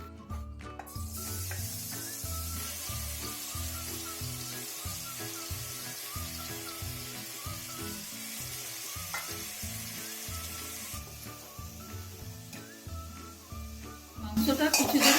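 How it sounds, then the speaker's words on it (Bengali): Mutton pieces fry in hot mustard oil with a continuous sizzle, close and moderately loud. Stirring and clinks of utensil against pan repeat throughout, with a sharper clatter at the end. "তেলটা গরম হলে মাংসগুলো ঢেলে নেব।"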